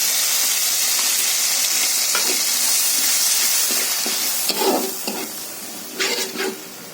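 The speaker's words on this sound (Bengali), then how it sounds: "লাল লাল করে ভেজে নেব আদা রসুন পেস্ট" Ginger-garlic paste frying in a pan for a radish and dried-fish dish, a dense, continuous hiss of oil with a few louder spatters and stirring scrapes toward the end.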